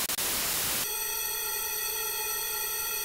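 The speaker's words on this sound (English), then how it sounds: "this is just a little demonstration of the effects of phaser with really high feedback" White noise hisses briefly, then passes through a phaser with very high feedback, turning into a resonant, ringing comb of sustained tones that holds steady and loud to the end.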